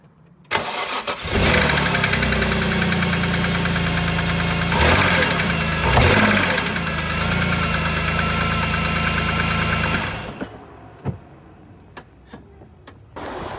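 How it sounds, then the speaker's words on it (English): A BMW E46 M3 with failed rod bearings cranks and fires, then runs loudly for about nine seconds with a harsh, rapid mechanical clacking from the engine before it is shut off, leaving a few faint clicks. "The car started, but with a very loud mechanical clacking noise."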